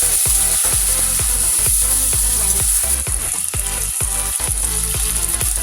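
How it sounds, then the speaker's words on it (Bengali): Ginger-garlic paste fries with fried onions in hot oil, a continuous loud sizzle with rhythmic scraping of a spoon stirring the pan. "তারপরে আদা রসুনের পেস্ট দিয়ে ভালোভাবে কষিয়ে"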